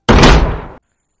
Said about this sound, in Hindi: चाचा ने सुरेश के घर का दरवाजा खोला और घर के अंदर चला गया